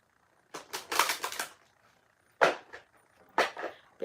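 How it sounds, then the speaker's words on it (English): Sacred Spirit reading cards being shuffled by hand, heard as three bursts of riffling and snapping card noise separated by short pauses, close and fairly loud with no talking. "let me shuffle these cards"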